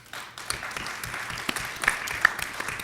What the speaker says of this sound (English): please give them a round of applause to acknowledge them